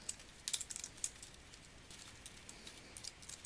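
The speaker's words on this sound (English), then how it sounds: "Then type in your Bates number accordingly." Typing on a computer keyboard, quick irregular clicks in short bursts, close and fairly quiet, with no voices.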